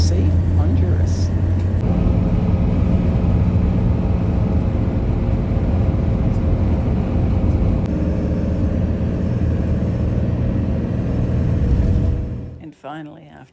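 A larger minibus rumbles along an open road past Guatemala City toward Honduras, its steady low engine drone and road noise loud and continuous before cutting off abruptly at the end.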